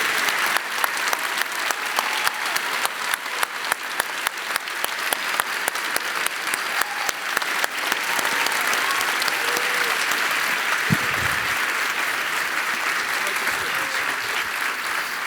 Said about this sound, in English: One more round of applause for Dr. Peterson.